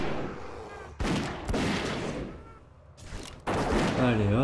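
A dwarf hunter's gun fires in World of Warcraft: a few sharp, loud shots in quick succession with broad bursts of noise, then a ringing tonal effect at the end.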